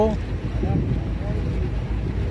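A launch boat at sea off Kavaratti island in Lakshadweep, its engine a steady low rumble mixed with wind and water noise, close and continuous, with brief voice traces early on.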